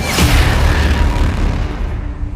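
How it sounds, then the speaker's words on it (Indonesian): A body explodes in a dramatic audiobook fight scene, rendered as a loud, sustained booming blast with a rumbling low end that fills the moment and slowly tails off, with no voice over it. "tubuh sang koki meledak"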